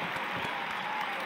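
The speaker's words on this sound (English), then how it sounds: "Gotta clap." Hands clapping at a steady, dense rate throughout, close and moderately loud with no voices over it.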